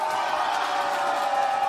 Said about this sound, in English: Are there any Fnatic fans in the house? Can we get a cheer?